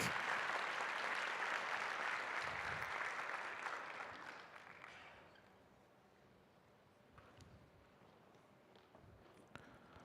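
Applause from an audience, fairly faint and fading after a few seconds into quieter room noise and scattered claps.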